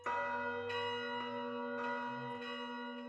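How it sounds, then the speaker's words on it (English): A church bell sample with a ping-pong delay in Cubase rings out in repeated, overlapping strikes, each decaying tone echoing back with a bright, sustained shimmer, alone and fairly soft. "you get a nice little church bells everywhere type sound"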